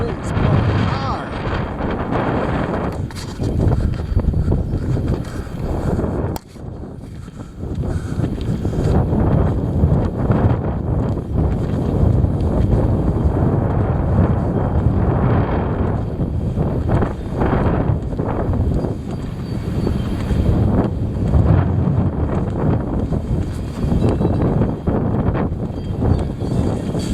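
Strong, heavy wind buffets the microphone in a steady, loud roar with gusty low rumble throughout, briefly dipping for a moment before surging back.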